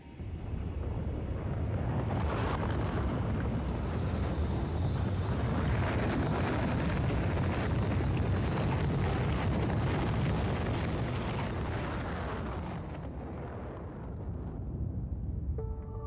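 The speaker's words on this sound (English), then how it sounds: "And now we can launch the rocket." A rocket launch in the factory-building game Factorio, a loud, continuous roaring rumble that swells to fill the scene for most of its length, then thins and fades slightly toward the end, with no talk.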